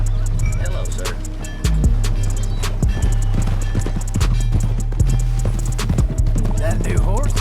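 Horse hooves clip-clop steadily at a walking pace in the video game Red Dead Redemption 2, close and clear, with occasional soft snorting and background game ambience.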